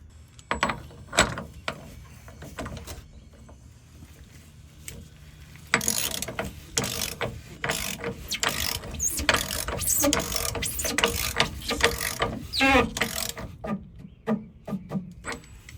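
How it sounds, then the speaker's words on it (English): Ratchet with a 36mm socket tightening the fuel filter housing cover on a Chevrolet Silverado/GMC Sierra L5P Duramax diesel, close-up rapid clicking in bursts, a quieter stretch early on, then a denser, louder run of clicks. "using my 36mm, I'm going to tighten it up"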